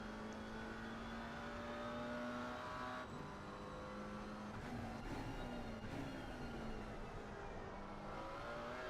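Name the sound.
McLaren GT4 race car onboard at Bathurst, from a racing video game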